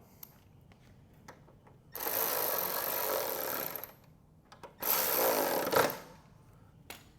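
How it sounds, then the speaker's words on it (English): Fender bolts on an E-Rider electric bike being tightened with a 10mm socket on a power driver: two sustained bursts of whirring motor noise, each roughly two seconds long, between faint clicks and handling sounds, close to the microphone. "we'll grab our 10mm socket, and then we'll just go ahead and tighten them up"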